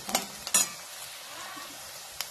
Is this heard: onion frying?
yes